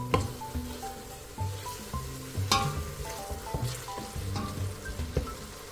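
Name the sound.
stockfish chunks frying for Nigerian vegetable soup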